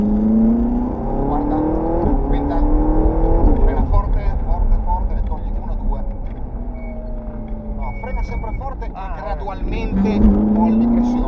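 A car accelerates hard out of a corner on a driving course, its engine note climbing and droning steadily throughout, with an instructor talking over it.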